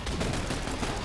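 A single dense, loud burst of gunfire in the shooter game The Bureau, close and brief, filling the whole moment.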